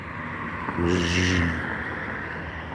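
A car on a road passes close by at twilight on a hiking trail, its engine and tire rumble swelling to a peak in the middle and then fading away, with no one speaking.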